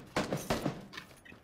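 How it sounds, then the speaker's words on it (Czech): Gunfire from an SKS rifle in the battle royale video game PUBG: several sharp, punchy shots in quick succession, fairly close and loud, with no talking over them. "Střílí po mně SKSem."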